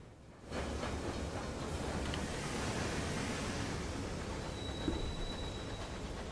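Steam locomotive rumbling steadily through the sky in the game Sunless Skies, a continuous broad chugging roar that holds at even loudness throughout, with a faint thin whistle-like tone near the end and no talking.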